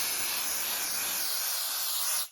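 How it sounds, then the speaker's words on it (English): A can of adhesive spray sprays onto carpet in one steady, loud, close hiss of about two seconds that cuts off abruptly, with no talking. "Next, you're going to grab our adhesive spray."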